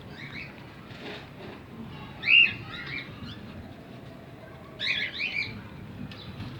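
Pet cockatiels in a breeding setup give a few short chirping calls, two brief bursts standing out over a steady low background hum, with no talking.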